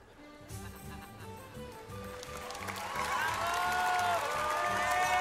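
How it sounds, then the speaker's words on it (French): An audience at a Japan Expo cosplay show applauding and cheering a cosplay group, the crowd noise swelling from faint to loud with whoops, over music with a steady rhythmic beat. "On les applaudit bien fort."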